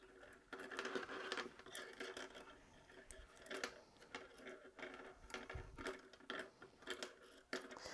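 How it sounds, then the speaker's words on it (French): Addi Crazy Trio knitting needles click and tick in quick irregular bursts while a row is knitted, close and faint, with no talking over them. "Désolée pour le bruit des aiguilles"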